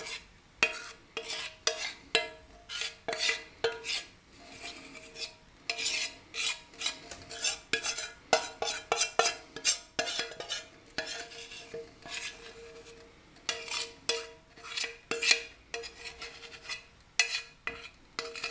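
Melted chocolate is stirred into cookie dough in a bowl with a utensil, giving irregular scraping and clinking strokes, close and moderately loud, in bursts with short pauses.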